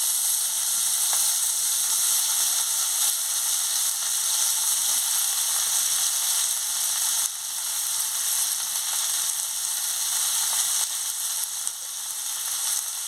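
Bitter gourd fries in hot oil with a loud, continuous sizzle heard up close. The crackle stays dense and steady for over ten seconds, with no speech.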